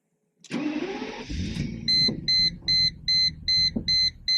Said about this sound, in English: I love the sound of the starter.